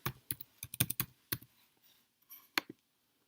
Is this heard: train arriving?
no